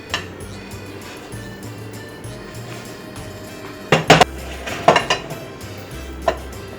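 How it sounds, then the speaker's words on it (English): Hash brown taco casserole is stirred in a pan with a utensil, sending out a few quick clusters of metallic scrapes and clinks after a quiet stretch, close by and with no talking. "now we mix this together"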